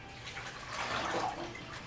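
A quart of water is poured onto sixteen ounces of seeds, making a soft, steady splashing wash that rises briefly in the middle.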